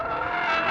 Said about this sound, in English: we're out on the circuit now in the Porsche Panamera Turbo S E-Hybrid, and this has got it all